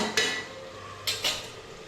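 Onion-tomato paste is sautéed in oil in a pan for a red chicken curry, heard as three quick, close clinks of a spoon against the pan over a faint background hum.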